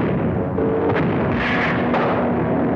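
Anti-aircraft gun battery fires skyward in an old film scene, with loud booming blasts and rumbling explosions over a dense roar.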